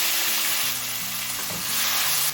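Green chillies, ginger paste and tomato fry in a pan with panch phoron, giving a loud, dense, continuous sizzle close by for the whole short stretch, with faint hum underneath and no talking.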